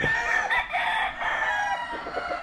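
A Kelso rooster on a farm lets out one long, close crow that fills the whole moment, with no voices over it.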